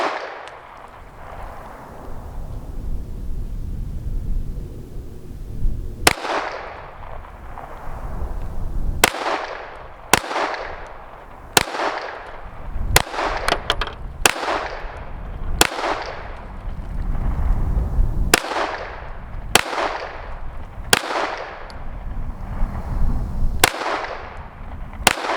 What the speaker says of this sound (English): So I'm going to shoot one more and then I'll do a quick double tap.